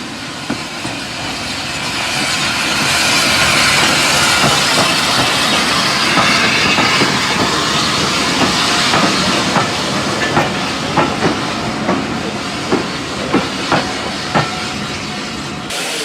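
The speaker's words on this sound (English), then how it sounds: "We're going to ride behind that steam locomotive from Bewdley to Kidderminster." A steam locomotive on the Severn Valley Railway between Bewdley and Kidderminster rolls along with a continuous hiss and rumble, rhythmic clickety-clack of wheels growing more distinct as it runs.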